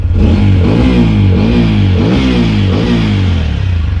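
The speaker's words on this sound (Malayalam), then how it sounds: "നിങ്ങളിങ്ങനെ റവ് ചെയ്ത് നോക്കുക" A used motorbike idles loudly in neutral and is revved several times in a steady rising and falling rhythm, close and continuous, with no talking.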